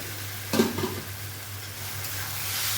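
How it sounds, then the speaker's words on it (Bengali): Fried potatoes are gently stirred into a sizzling red Bengali egg curry masala, with a brief scrape of the spoon in the pan over a soft, steady frying sizzle. "এখন আমি আস্তে করে ভাজা আলুটা দিয়ে একটু নাড়াচাড়া করব।"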